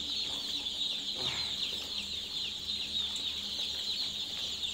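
Chickens and turkeys on a poultry farm cluck and chatter continuously at close range, a dense flock noise over a steady background hum with no clear speech.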